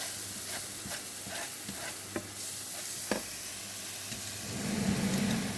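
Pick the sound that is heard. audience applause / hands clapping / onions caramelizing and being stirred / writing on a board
onions caramelizing and being stirred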